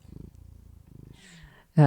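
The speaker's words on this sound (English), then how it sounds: "I heard a purring" A cat purrs softly and close by in a steady, pulsing rhythm for most of the moment, before a voice breaks in at the end.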